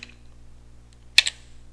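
Terminal commands are typed on a computer keyboard in a quiet room, with a couple of close, crisp key clicks in quick succession near the end over a faint steady hum.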